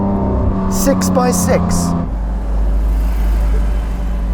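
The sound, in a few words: Lamborghini Aventador Ultimae Roadster by Novitec engine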